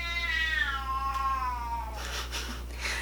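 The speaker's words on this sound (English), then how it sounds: "then she'll come out and start meowing." A pet cat named Rue gives one long, clear meow with a falling pitch, close by, followed by faint rustling and shuffling noises.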